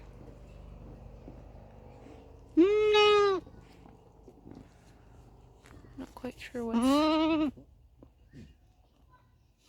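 A sick goat on a farm lets out two drawn-out, wavering bleats several seconds apart, while a person talks quietly nearby.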